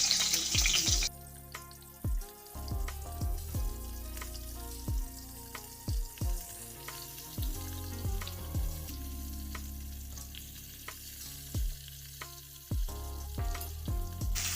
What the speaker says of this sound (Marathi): तेल छान गरम झाल्यावर शिमला मिरची टाकायची